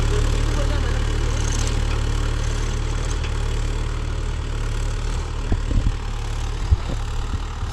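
A Mahindra Yuvo Tech Plus 585 4WD tractor pulls a spring cultivator, its engine holding a steady, droning mid-low hum throughout, with a few faint knocks and clunks near the end.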